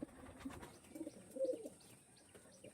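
Female pigeon at close range cooing in soft, low bursts, with a few faint chirps from other birds behind and light rustling or wing movement.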